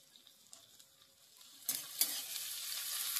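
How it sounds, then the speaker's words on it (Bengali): Chopped garlic, onion and green chilli hit a hot wok and start frying, a soft rising sizzle with a few stirring scrapes that grows louder and steadier partway through. "এবার এই তিনটেকে ভালো করে একটু লাল লাল করে ভেজে নেব।"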